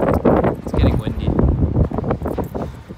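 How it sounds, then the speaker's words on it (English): Gusty wind buffets the microphone with low rumbling bursts, and a voice talks intermittently underneath. "It's getting windy."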